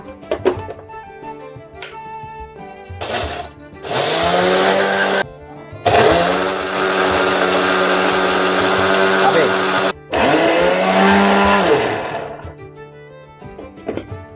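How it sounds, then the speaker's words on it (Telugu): A mixer grinder powders sugar and cardamom seeds in loud bursts of whirring motor roar, stopping and starting several times. A voice talks between the runs. "మిక్సీ పట్టేయాలి మెత్తగా పౌడర్గా"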